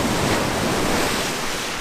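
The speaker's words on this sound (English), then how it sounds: "the waves are coming up and crashing around it" Ocean waves crash and wash around a rock on the Northumberland coast, a loud continuous roar of surf close by, with no voices.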